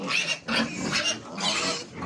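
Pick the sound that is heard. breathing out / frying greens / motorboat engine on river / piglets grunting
piglets grunting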